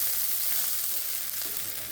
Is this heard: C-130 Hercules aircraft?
no